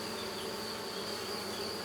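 Honeybees buzzing at an open beehive in an apiary, a steady dense hum that holds evenly throughout without pause.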